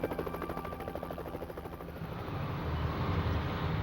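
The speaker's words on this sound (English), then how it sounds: "They scanned the area inch by inch as choppers circled overhead." Helicopters circle overhead during a night search for a missing mother and child, a steady rotor chop and engine drone that holds loud throughout and thickens into a low rumble toward the end, with no voices.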